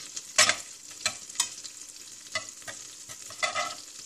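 Butter melting over low heat in a pan ahead of adding flour for a béchamel sauce, sizzling steadily up close, with several sharper bursts of crackle and stirring scrapes and no talk.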